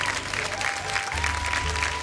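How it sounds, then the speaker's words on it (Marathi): Steady, close audience applause on a Marathi television show, continuous and even, with music playing underneath the clapping. "जोरदार टाळ्या झाल्या पाहिजेत"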